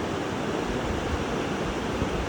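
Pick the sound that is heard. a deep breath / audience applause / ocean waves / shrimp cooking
ocean waves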